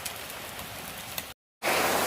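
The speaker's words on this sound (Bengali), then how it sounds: "প্রত্যেক দিন বৃষ্টি পড়ছে" Steady rain pours down outside during a monsoon day at home, a dense even hiss that runs unbroken, drops out completely for a moment, then returns louder and brighter.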